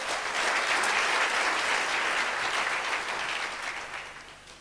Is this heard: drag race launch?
no